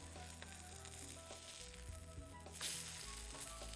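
A soy nugget burger patty frying in a pan in a TV cooking show kitchen, giving a soft, steady sizzle with faint crackles and a brief louder hiss near the end.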